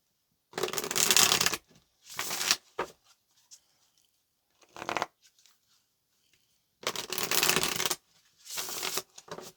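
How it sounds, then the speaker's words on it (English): A deck of tarot cards is shuffled in five or six quick riffling bursts of about a second each, close up, with short silent gaps between them and no speech. "let's get one more shuffle"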